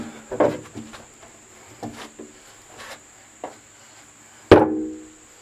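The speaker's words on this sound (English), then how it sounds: "Hammer." Several sharp hammer blows on wood while building walls, irregularly spaced, close by, ending in one loud strike that rings out briefly.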